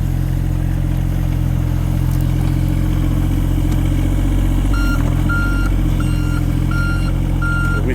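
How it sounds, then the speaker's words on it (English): An excavator works dirt at a pole barn construction site, its engine rumbling steadily and close, with a repeating reversing beep sounding in the later part. "Without the excavator, of course, this would be a lot of work for a bunch of people in wheelbarrows"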